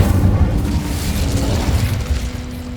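An Incendio fire spell cast in Hogwarts Legacy gives a loud, steady roaring burst of flame with a heavy low rumble that runs for a few seconds without letting up.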